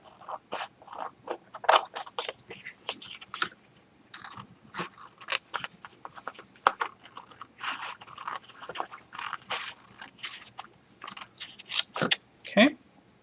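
Scissors snip through paper while a base for a handmade gift tag is cut out, giving short crisp cuts and scraping strokes in an uneven rhythm close by, with a person talking over and between the cuts.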